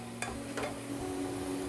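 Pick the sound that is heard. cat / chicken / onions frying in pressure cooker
onions frying in pressure cooker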